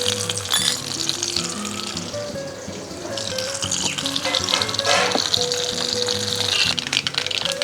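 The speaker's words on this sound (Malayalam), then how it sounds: "ഇത് ഞാൻ കുറച്ച് കടുകിട്ട്" Mustard seeds crackle and fry in hot coconut oil for a Kerala-style tempering, a steady dense sizzle with sharp pops over a constant loud hiss, heard alone.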